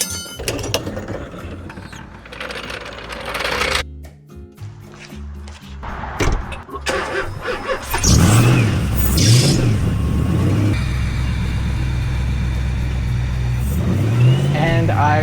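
A 750-horsepower LSZ car engine rumbles and revs loudly at close range as the car is driven into a garage, with a rising, wavering low drone that stays strong through the second half, with some mechanical clatter.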